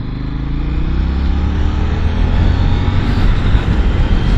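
A motorcycle engine brakes through a corner, its loud, close drone with a falling pitch that then steadies, heard from the rider's position with wind and road noise.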